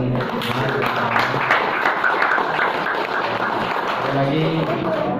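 Audience clapping at a regional working meeting of an organisation, a steady dense patter of hands filling the room, with voices mixed in over the applause throughout.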